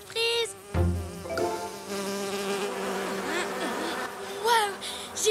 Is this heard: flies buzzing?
yes